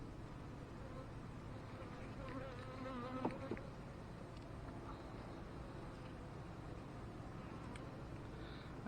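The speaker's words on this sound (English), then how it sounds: "there is a ton of bees in this hive" Honeybees swarm around an opened hive during a spring inspection, a soft, steady buzzing drone with the occasional insect passing near, faint, with quiet human sounds in the background.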